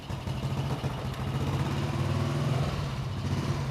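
A 1991 Honda Astrea Grand motorcycle with a weak battery, kick-started and left running: a steady, fairly quiet small-engine idle with an even low putter, heard alone throughout.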